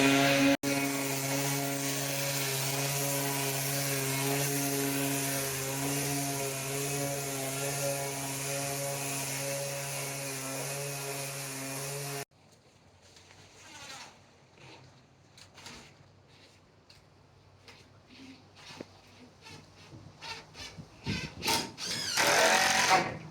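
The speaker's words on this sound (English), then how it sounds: "So here you're sanding the floor, trying to get a nice finish on it." A floor sander works across the floor of a tiny house, a loud, steady whine with strong even tones for about twelve seconds. It then cuts off, leaving quiet scattered knocks and shuffling that grow louder near the end.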